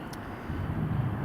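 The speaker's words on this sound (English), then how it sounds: "Next up we have Ryanair from Malaga coming in." Ryanair airliner arriving from Malaga on its landing approach to Edinburgh Airport, a steady low engine roar that swells slightly as it comes closer, heard alone with no talking.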